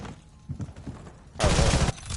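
Gunfire in a Call of Duty match, quieter thumps and scattered shots early on, then a loud dense burst of rapid fire in the second half.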